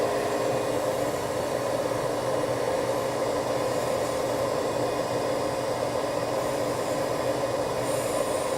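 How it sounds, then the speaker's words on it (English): A Vinyl Vac record-cleaning vacuum runs steadily and fairly loudly, a constant broadband whooshing drone with no change in pitch and no talking. "I'm going to turn on the vacuum."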